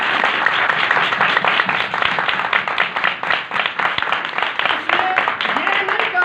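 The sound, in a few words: congregation clapping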